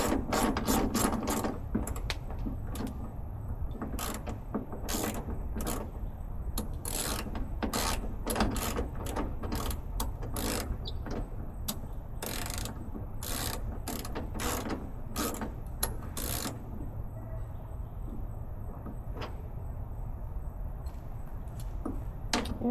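A hand ratchet clicks in rapid bursts while bolts are tightened during a carbon fiber hood install on a 2024 Cadillac CT5-V Blackwing, with sharp close-up pawl ticks in irregular runs over a steady low background hum.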